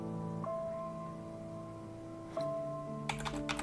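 Keystrokes tapped on a computer keyboard while entering a password during Linux Mint KDE setup, a few soft clicks over a steady background hum, quiet and close.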